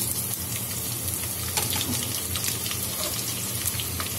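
Onions frying in a pan for a Kerala-style chicken roast, a dense, even crackling sizzle like light rain that holds steady throughout, with faint stirring clicks and no speech.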